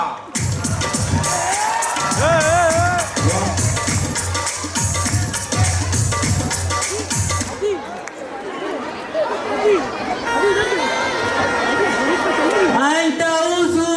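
An audience at a comic mushaira claps loudly and cheers as a poet comes on stage. Dense applause and crowd chatter fill the first half, then give way to a noisy hubbub of voices.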